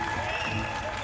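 Applause rings out in a MasterChef studio as past competitors are welcomed at the finale, a brief steady burst of clapping.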